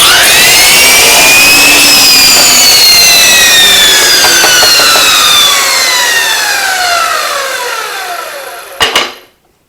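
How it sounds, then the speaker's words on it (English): Power saw slicing wooden plugs off a board with a Kreg plug cutter, a loud sustained whine that drops in pitch as the blade bogs through the wood, then spins down and stops with a brief clatter. "So that will cut those plugs out."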